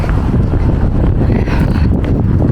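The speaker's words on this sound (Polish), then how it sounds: "bo wieje jak pieron" Strong outdoor wind roars and buffets the microphone in a loud, continuous low rumble with gusty fluctuations.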